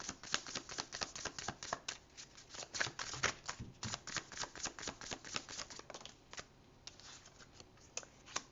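Tarot cards shuffled by hand in a long run of quick, crisp riffling flicks and soft slaps, close and fairly quiet, with no voices.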